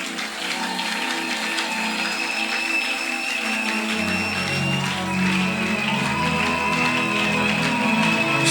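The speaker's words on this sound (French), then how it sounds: "Pendant qu'il passe, nous l'accueillons avec des acclamations." A church congregation at a Sunday service applauding and cheering, dense continuous clapping and crowd noise over sustained music, filling the whole stretch without letting up.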